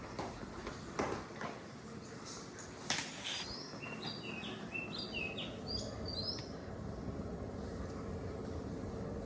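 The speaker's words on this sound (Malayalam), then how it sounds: "എൻ്റെ കിളിക്കൂട്ടന്മാരുടെ പാട്ട്" Small birds chirping and trilling outdoors in the morning, a string of bright, thin, quick notes from a few metres away over a steady low background rumble, with a couple of soft knocks early on.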